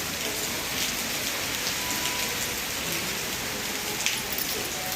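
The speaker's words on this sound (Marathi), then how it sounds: "एकदम बारीक पाऊस पडतो" Light, fine rain falls in Sangli district, a steady, even hiss of drops on surfaces that continues unbroken with no other sounds standing out.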